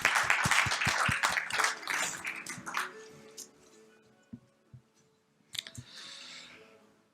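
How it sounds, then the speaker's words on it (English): Audience applause welcoming a speaker to the opening of the 2nd AIWW, a burst of clapping that thins out and fades within a few seconds, leaving scattered claps and faint sounds. "Please welcome him with a warm round of applause."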